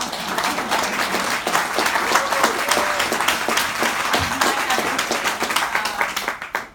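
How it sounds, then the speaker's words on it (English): An audience applauds at a book talk, dense steady clapping from many hands that holds for several seconds before tapering off at the end. "join me in a round of applause to wish her happy"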